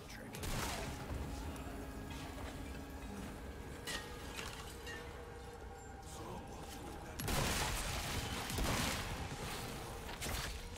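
Rifle gunfire in Resident Evil 4 Remake, with sharp broadband bursts recurring through a dense, busy game soundscape and a louder cluster of shots toward the end, mixed with mechanical clatter.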